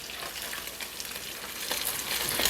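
Redear fish fry in a pan with bacon and green onions, giving a steady, fairly soft sizzling crackle that continues throughout without any voices.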